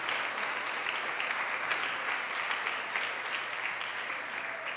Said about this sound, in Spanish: Dale ese fuerte aplauso al Señor Jesús